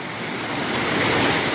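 Floodwater of a swollen river in Panderi village, Konkan, rushes past as a loud, steady, broadband roar that builds slightly, with no voices.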